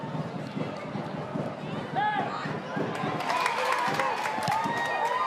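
A Sydney football crowd at an A-League match between Sydney FC and Adelaide United rises into loud shouting and jeering, heard from a distance beneath a commentator's voice.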